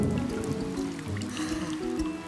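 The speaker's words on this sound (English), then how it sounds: "Is the rain ever going to stop?" Steady cartoon rainfall in the Tinga Tinga animated series, a dense continuous patter of drops and trickling water filling the scene without any voices.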